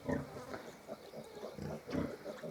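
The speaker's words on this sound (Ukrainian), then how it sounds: "тут ця свиноматка корме маленьких поросят" A Hungarian Mangalica sow with week-old piglets grunts softly and repeatedly at close range in a pen while she nurses, low rhythmic oinks with faint background noise.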